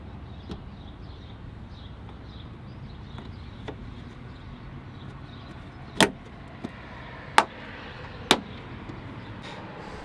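Three sharp snaps of a plastic trim piece clipping into place on a 2022 Ford Super Duty truck, close by, over a low steady background hum with a few softer clicks earlier.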